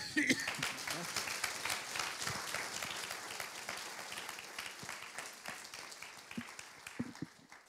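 Applause from the audience at a panel discussion on climate change and nature's services, with steady clapping heard at moderate distance. Faint voices sound beneath it.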